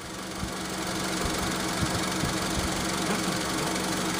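A broken-down car's engine idles while warming up on a cold day, a steady, close, rumbling drone with a light knocking pulse and no talk.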